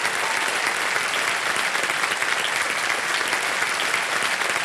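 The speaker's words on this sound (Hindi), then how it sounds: "तालियां बज जाए इनके लिए" Studio audience at a televised quiz show applauding a contestant who just won 3,20,000 rupees; steady, dense clapping fills the whole stretch at even loudness, with no talk over it.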